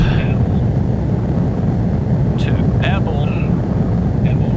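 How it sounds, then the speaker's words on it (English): Eurofighter EF2000 jet in a flight video game roaring at full power with afterburners on takeoff, a loud steady broadband rumble that holds throughout, with a few faint higher tones on top. "use our afterburners and get off to takeoff speed"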